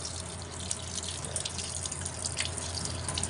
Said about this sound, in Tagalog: So, running water.